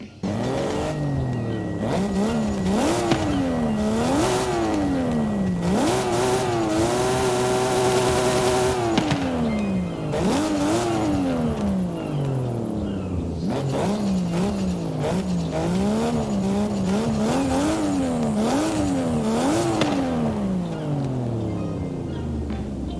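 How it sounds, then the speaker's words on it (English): Brian's Toyota Supra in Forza Horizon 5, built for touge racing, revs hard through repeated rising and falling gear changes, with loud sustained engine notes and brief tire squeal, no talk. "There is obviously the engine sound for this thing"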